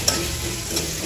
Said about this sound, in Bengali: এবার আমি একই তেলে পেঁয়াজ রসুনগুলো হালকা ভেজে নেব।